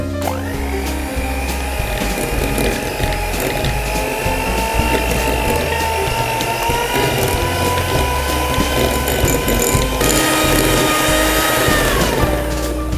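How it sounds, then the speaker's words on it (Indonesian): Electric mixer whirring steadily at low speed as it beats royal cream, a continuous motor drone with a pitch that shifts slightly near the end before winding down. "Akan saya mixer dengan kecepatan rendah hingga royal cream-nya menjadi creamy."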